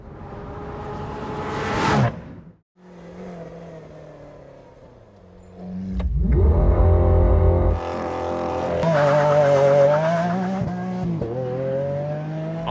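A 740 hp Lamborghini Aventador S with a dual-clutch transmission launches hard on a race track in Spain, a loud engine roar that rises through the gears with sharp shift breaks and a burst of tire noise, no voices.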